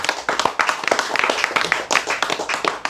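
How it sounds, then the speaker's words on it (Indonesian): A crowd claps steadily through a lecture-hall setting, a dense ragged patter of many hands at moderate loudness with no talk over it. "Tepuk tangan."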